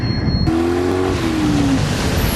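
A 2023 Toyota Tundra truck engine rumbles close and loud, with a steady drone and a rising then falling tonal whine after a brief cut at the start.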